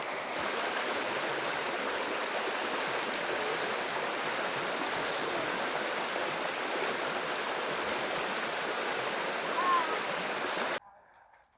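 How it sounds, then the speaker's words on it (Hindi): A small river flows below a spot near an old closed church, a steady, even rush of running water that continues unbroken before cutting off abruptly near the end. "और छोटी सी रिवर बह रही है ये नीचे"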